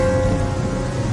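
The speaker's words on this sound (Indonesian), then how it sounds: "hujan turun agak besar" Heavy rain pours down outdoors on a road near a football field at night, a dense, steady hiss with no break, loud and close.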